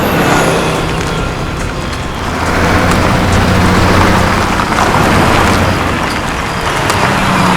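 Vehicle engine rumble as a car pulls in, a steady low drone under heavy broadband noise like rain or road wash, continuous and fairly loud with no clear speech.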